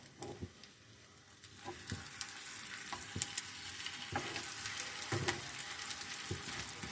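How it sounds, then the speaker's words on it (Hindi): Aloo bread sandwich frying in hot ghee on a pan, a steady close sizzle with occasional pops and spatula scrapes throughout, no voices. "घी में हम सैंडविच को फ्राई कर लेते हैं।"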